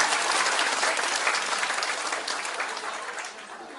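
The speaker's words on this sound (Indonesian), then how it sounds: "Kita beri tepuk tangan dulu." An indoor audience at a talk about recovering from uterine cancer claps steadily and close, a dense wash of applause that holds loud and then tapers slightly toward the end, with no voices over it.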